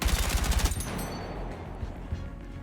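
A gun in the shooter game Battlefield fires a short rapid burst of about ten loud, close shots, then the sound fades into quieter game ambience with a faint thump or two.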